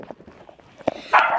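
A dog gives a single sharp bark, followed shortly by a louder, longer yelp or bark. There are soft rustling background noises before it.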